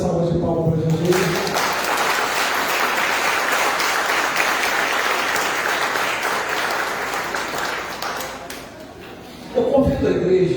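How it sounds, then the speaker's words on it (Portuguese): A church congregation gives sustained applause for Jesus during a family service, dense clapping filling the hall for about eight seconds, with a voice speaking before and after. "Você pode dar uma linda salva de palmas para Jesus?"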